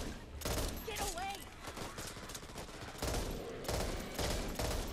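Bursts of rapid gunfire in the zombie shooter Back 4 Blood come in several close, loud volleys, with a player's voice heard between them.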